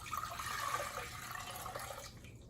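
Water pours steadily into a pan for about two seconds, a continuous close splashing rush that tapers off at the end.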